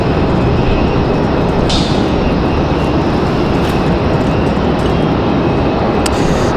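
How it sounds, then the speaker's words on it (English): A JetBlue airliner arriving from San Juan, Puerto Rico, taxis to the gate at Raleigh-Durham International Airport. Its engines give off a loud, steady, close roar that holds level throughout, with no voices. "JetBlue pulling into the gate."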